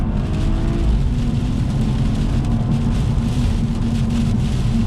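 A BMW M240i with a turbocharged engine pulls hard through second gear, a steady muffled engine drone with faint induction whoosh, heard from inside the cabin, continuous and without talk.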